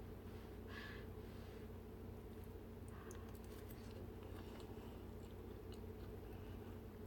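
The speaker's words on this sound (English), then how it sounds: "I'm going to try a bite of this. Alrighty. Get a little bit of the crust." Bites and chews into an elderflower fruit pie with crust, filled with blueberry and apple, crunching and squishing softly up close over a steady low background hum, with no talking.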